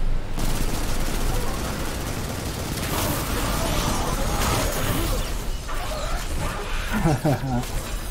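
Rapid bursts of gunfire and explosive crackles in the video game Destiny 2 fill the clip, dense and loud, with a voice talking over the action.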